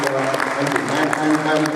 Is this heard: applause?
yes